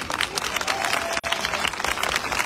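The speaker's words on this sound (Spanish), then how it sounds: "Un aplauso para mi querido amigo Oscar," Concert audience applauding Oscar, director of a symphonic band, a dense, steady burst of many hands clapping close and loud for a couple of seconds, with no speech over it.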